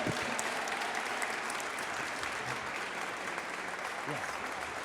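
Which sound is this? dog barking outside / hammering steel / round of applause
round of applause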